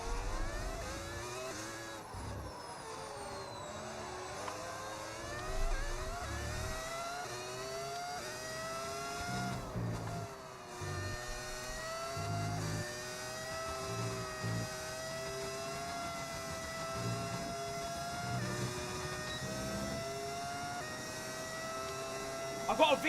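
Simulated V10 Formula 1 engine from a mod in the F1 26 racing video game, loud and continuous with rising and falling revs through gear changes, a steady high whine running beneath, held close throughout.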